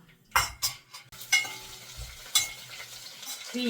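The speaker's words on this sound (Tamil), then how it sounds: "இப்போ கடுகு வெந்தயம் கருவேப்பிலையெல்லாம் பொரிய ஆரம்பிச்சுடுத்து" Mustard seeds, fenugreek and curry leaves splutter in hot oil in a home kitchen, giving sharp crackling pops in scattered bursts over a soft sizzle, with a few utensil scrapes.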